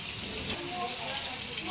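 Chicken 65 pieces frying in hot oil give a steady, close broadband sizzle with crackling texture throughout, while a voice talks faintly underneath.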